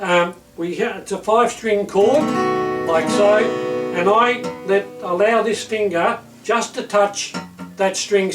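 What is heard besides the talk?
No everyday noise stands out behind the speech.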